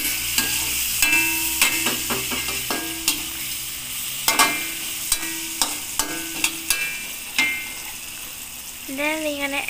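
Biryani mixture with caramel powder sizzles in a pan as a spoon stirs it in irregular scraping strokes, sharp clicks against the metal over a constant frying hiss, close up, with a voice speaking briefly near the end.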